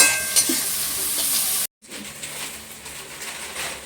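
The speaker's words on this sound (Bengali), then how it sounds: "এবার দিয়ে দেবো পেঁয়াজ কুচি, এবার দিয়ে দেবো ক্যাপসিকাম কুচি। ভালো করে নেড়ে চেড়ে নেব।" Chopped onion and capsicum sizzle and are stirred in a frying pan while making egg pasta at home, a steady hiss with a sudden brief cut before the frying continues.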